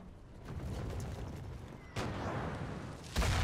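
Cannons fire in the Napoleonic battle game Napoleon: Total War, played with an Era mod. Two heavy booms land about a second apart over a low rumbling battlefield din, and no one speaks.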